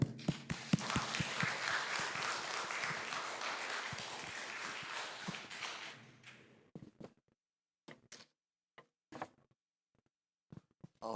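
Church congregation applauding as an elder comes forward at a Bible study on salvation: dense, sustained clapping for about six seconds, then a few scattered thumps and taps in a quiet room.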